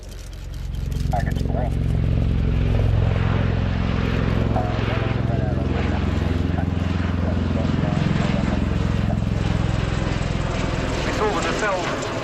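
A loud, steady roar of rotor and engine noise builds and holds as a Bell-Boeing CV-22B Osprey tiltrotor makes a tactical takeoff at an airshow, close and sustained, with a voice talking over it.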